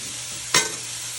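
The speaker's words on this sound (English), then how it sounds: "So I'm going to give this a quick stir." Onions fry in an Instant Pot with a steady sizzle, and a single quick scrape of a stir cuts through partway, close and without talk.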